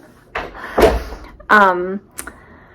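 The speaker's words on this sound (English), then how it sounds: "It's okay, just shut the door." A door is shut indoors in a home kitchen or pantry, giving a couple of short thuds and a closing knock, with a brief voice-like sound and quiet room tone between them.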